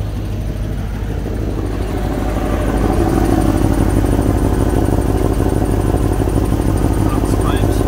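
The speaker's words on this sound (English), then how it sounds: "Sounds like I do hear a light exhaust leak" A 2008 GMC chipper-body truck engine idles steadily with a low rumble and faint ticking exhaust puffs from a light exhaust leak, while a person talks over it.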